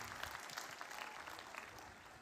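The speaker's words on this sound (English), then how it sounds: "If you are happy, clap your hands, clap your hands." Commencement ceremony audience at the Morehouse School of Medicine clapping their hands, a steady wash of dense applause filling the hall throughout, with no talk over it.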